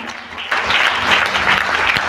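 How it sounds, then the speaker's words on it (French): A church congregation claps and cheers during a Sunday service, broad sustained applause that swells after a quieter first half-second and stays loud and dense throughout. "Acclame bien le Seigneur."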